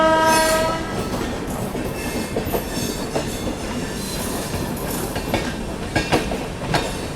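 The Tamil Nadu Express runs alongside on a parallel track, with a loud horn at the start and then a steady roar of rolling wheels and rhythmic clickety-clack close by.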